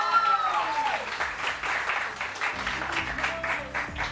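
A studio audience on a morning TV show applauds in a steady wash of clapping, while a person speaks over it at close range.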